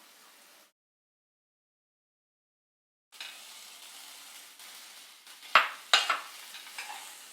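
A spatula stirs cooked rice into fried raw mango in a pan. A soft sizzle returns after a short silence, then a few sharp, close scraping strokes come through. No one speaks.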